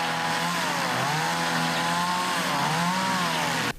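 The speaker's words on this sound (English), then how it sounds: "volunteers showing up, breaking out chainsaws," Chainsaws run continuously as volunteers cut tree branches, the engines droning loud and steady with rising and falling revs as they bite into wood, then cutting off abruptly at the end.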